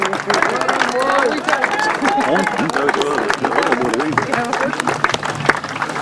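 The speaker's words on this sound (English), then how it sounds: "The crowd want a good shout." A crowd at a British Masters qualifier grasstrack race gives a steady, sustained cheer and some clapping, mixed with someone talking over it throughout.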